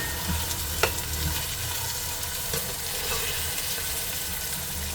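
Peas frying in a pan, a continuous dense sizzle with occasional faint scrapes of stirring, steady and close throughout.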